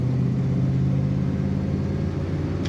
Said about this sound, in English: They always seem to have a good throaty rumble. Not too loud, just enough to let you know that's a nice V8 under the hood.